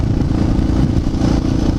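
A Yamaha TTR 600 supermoto motorcycle engine runs steadily and close by, a continuous mid-pitched drone with slight clatter and no voices over it.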